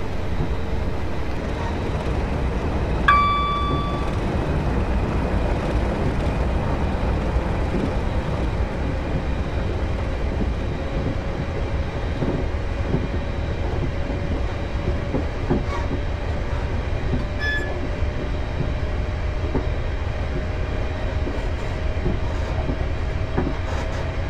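A train cab in the Railworks 3 video game runs at full throttle on the Glasgow Central to Glasgow International Airport line: a steady, loud rail rumble with faint rhythmic clatter, a slowly rising drone and a brief tonal beep early on.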